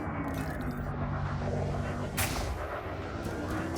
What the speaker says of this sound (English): the plasma charger drains a lot for each shot